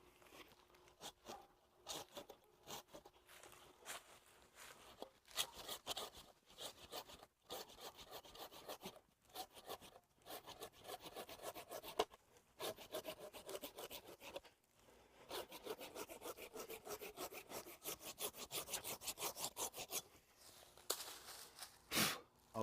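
A hand saw cuts down from the top through a tree branch during a thinning cut, its rasping strokes repeating steadily and close, with brief pauses between bursts and no voices.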